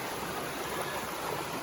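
A river in Devil's Den, Andover, Maine, gives a steady broadband rush of flowing water. The sound is continuous and unbroken, with no voices over it.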